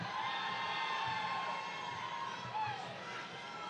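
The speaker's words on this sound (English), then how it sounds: "The family's here cheering for Ian Scott Diaz Lovejoy" A family cheers at a graduation ceremony for an MBA program, with steady crowd noise and whoops in a large hall, held at an even level throughout.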